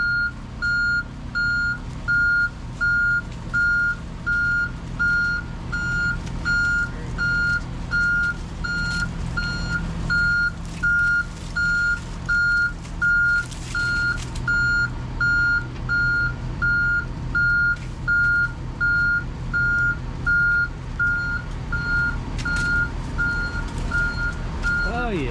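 A Komatsu 30-ton haul truck reverses in freezing cold. Its backup alarm beeps steadily and regularly over a low, constant engine rumble for the whole stretch.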